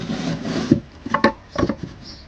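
Wooden casing is fitted into place inside a camper van conversion, producing a few close wooden knocks and scrapes over about two seconds.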